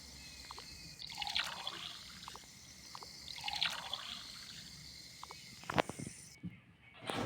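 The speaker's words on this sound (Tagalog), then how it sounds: "Lagyan ko lang ng tubig yung mga baso nila." Water trickles and pours into glasses in the Toca Boca game, a few short bright pouring bursts with dripping splashes between them, no talk over it.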